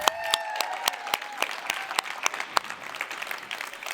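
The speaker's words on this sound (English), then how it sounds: "One big round of applause for Clayton." Audience applause at a QuickBooks Connect tech conference in San Jose, a thin scattering of claps with distinct sharp hand-claps standing out, fairly near and moderately loud, over a faint sustained tone in the background.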